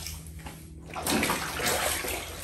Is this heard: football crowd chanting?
no